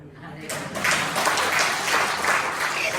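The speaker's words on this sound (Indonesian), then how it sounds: "Tepuk tangan." A church congregation claps together in sustained applause that swells after a brief quiet start and stays loud and dense throughout.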